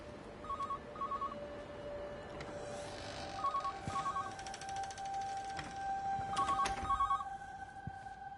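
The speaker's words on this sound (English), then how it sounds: "I hear a phone." A telephone rings inside a house in a video game, giving paired electronic ring bursts that repeat three times over a faint ambient hum and scattered clicks, moderately quiet and without speech.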